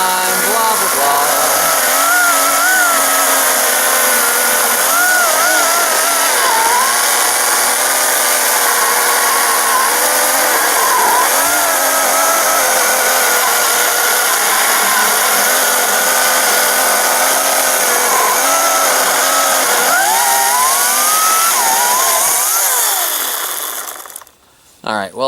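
A Ryobi 40V battery chainsaw whines loudly and continuously as it cuts through wood, its pitch wavering under load before it stops abruptly at the end.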